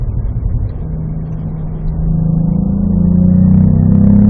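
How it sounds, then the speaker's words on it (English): Cadillac V-Performance car accelerating on a race track, a loud, steady engine drone heard from inside that rises in pitch and grows louder as the throttle opens. "Rolling into throttle now."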